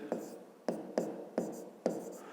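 Pen strokes on paper as an equation is written out by hand in a maths exercise, five crisp taps and scratches at an uneven pace, close and fairly faint.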